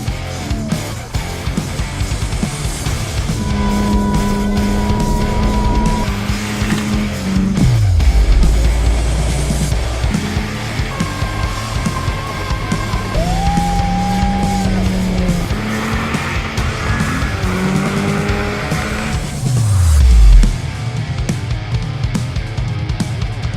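A stunt car spins and skids at a stunt ranch in Texas, its engine revving loudly and rising in pitch through repeated whirling slides, tires squealing, with sharp engine drops and bursts around the spins and no talking.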